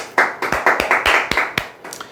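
A small audience clapping hands at a talk, close and fairly loud, with a quick series of distinct claps that thin out toward the end.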